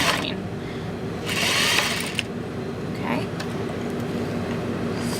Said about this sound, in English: So you're gonna sew those 2 side seams on your facings together